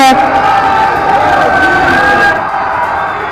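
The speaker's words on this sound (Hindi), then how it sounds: "जोरदार तालियों के साथ स्वागत माननीय प्रधानमंत्री महोदय जी का।" A large crowd cheers and claps in welcome for the Prime Minister at a public event in Varanasi, a loud continuous roar with whoops and babble mixed in.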